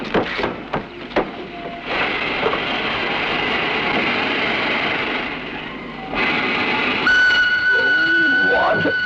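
A train rumbles past at close range, its broadband roar steady for several seconds before a sharp high whine and squeal rise near the end.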